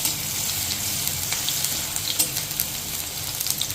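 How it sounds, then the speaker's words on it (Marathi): Lightly crushed garlic dropped straight into hot oil in a kadhai sizzles with a loud, continuous, close hiss and fine crackling, steady throughout without any voices. "तेलात डायरेक्ट असं थोडा ठेचलेला लसूण घातलाय"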